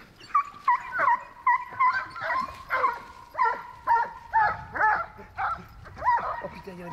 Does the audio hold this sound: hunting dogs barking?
yes